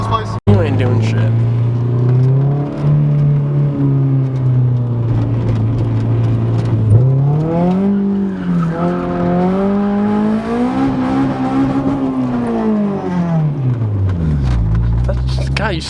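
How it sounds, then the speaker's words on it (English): A 2JZ-swapped Nissan 300ZX engine revs hard and close, its pitch climbing, holding and dropping in long sweeps over some fifteen seconds, with voices in the background. "You gotta rip those RPMs up. You go to 8 grand, bro."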